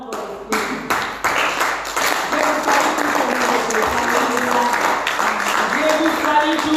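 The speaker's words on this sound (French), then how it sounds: "Et acclamons encore le Christ." A church congregation applauds to acclaim Christ during a service, sustained dense clapping carrying loudly throughout with voices mixed in underneath.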